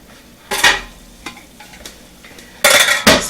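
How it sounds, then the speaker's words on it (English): Leftover rice fries in a pan as the last liquid cooks off, with short bursts of sizzling and scraping stirs separated by quieter gaps. "it'll just fry up whatever liquid is left"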